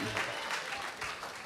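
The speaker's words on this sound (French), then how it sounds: "Applaudissons la parole de l'Éternel ce matin." A church congregation applauds during a French-language sermon, a short dense burst of clapping from many hands, fairly steady and moderately loud throughout.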